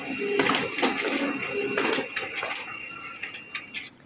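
A Canon LBP325X laser printer works through a print job with soft mechanical whirring, clicks and rattles of paper feed, fading to sparse ticks, heard close up.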